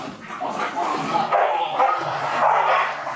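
Young puppies from a litter of five, with soft, close yips and whimpers that blend into a continuous mix of small barking and a murmur of background voices.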